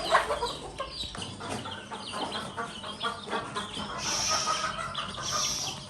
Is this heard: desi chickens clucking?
yes